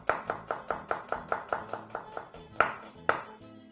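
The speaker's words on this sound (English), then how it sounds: "just slice your onion as you go in" A knife thinly slicing an onion on a cutting board, about a dozen crisp, evenly paced cuts close up, slowing to a few spaced strokes at the end, with no talk.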